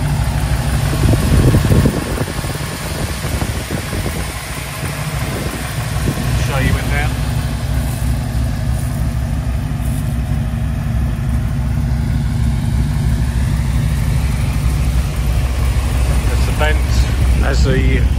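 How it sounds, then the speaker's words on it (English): A stroker engine idles in an all-steel 1932 3W coupe hot rod, a steady low rumble running beneath someone talking nearby throughout. "Got a stroker engine."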